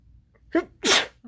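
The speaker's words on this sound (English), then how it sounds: "Hopefully that sneezing fit is over and done with." A person's sneezing fit: a quick pair of sharp, loud sneezes close to the listener, the second burst stronger and breathier than the first, with no talk around them.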